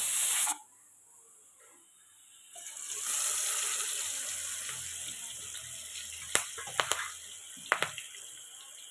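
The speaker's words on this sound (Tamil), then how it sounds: "இப்போ காயை வந்து போட்டு எடுத்துக்கலாம் கடாயில்." Vegetables dropped into hot oil in a kadai give a steady broadband hiss and sizzle that carries through most of the moment, with a few sharp clinks and splutters near the end.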